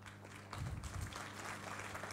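Audience applause in a lecture hall at an education talk, a steady wash of clapping that swells after a quiet start and holds at moderate level, somewhat distant, with no one speaking over it.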